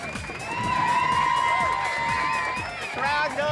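A restaurant crowd cheers loudly for a mermaid show in a water tank, with whoops and shouts rising together, swelling and then easing over a few seconds.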